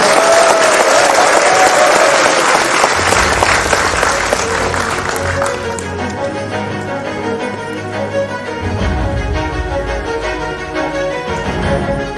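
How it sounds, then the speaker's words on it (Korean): Loud, sustained applause from a large audience welcoming the prime minister at a public event in Jeollabuk-do, steady clapping filling the whole stretch with a crowd murmur underneath. "여러분 다시 한번 총리님께 뜨거운 박수 한번 부탁드리겠습니다"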